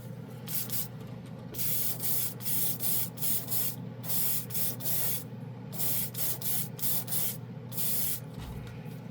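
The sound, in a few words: airbrush spraying military color paint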